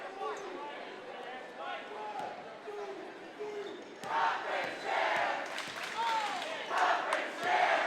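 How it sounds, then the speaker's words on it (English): A home crowd at a high school boys basketball game, Tartan vs North, chants and cheers, swelling louder halfway through, while a commentator talks over it and sneakers and bounces punctuate the noise. "As the Titan home crowd starts to chant, get behind their team for this seemingly solid victory."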